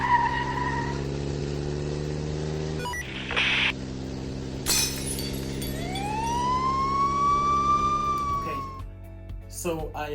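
A wailing alarm siren sound effect plays from a Lego animation app, rising then holding a steady high tone for a few seconds over a low constant hum, with clinking and handling noises before it.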